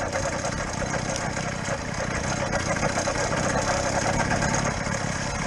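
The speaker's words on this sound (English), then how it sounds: "I will release my clutch slowly and apply my throttle, as so I don't break traction by spinning the wheels" A motorcycle engine pulling away as the clutch is released and throttle applied on a snowy, sleety road, a steady loud drone with wind rush close to the microphone, and someone talking.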